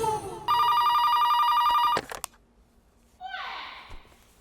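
A telephone rings for a call to Neena, one long electronic bell trill lasting about a second and a half, followed by a click and then a rising chirpy electronic tone.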